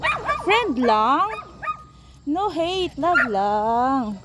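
A dog chased earlier gives loud close yips and whining barks in two bursts separated by a short pause, with a person speaking softly at the same time.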